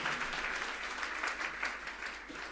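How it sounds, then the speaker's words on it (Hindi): A gathering in Ajmer, Rajasthan applauds warmly to welcome a religious question-and-answer programme with Muni Pramansagar Maharaj, a steady, even wash of many hands clapping from start to finish. "एक बार इस कार्यक्रम का हम हार्दिक तालियां बजा के स्वागत करें, अभिनंदन करें।"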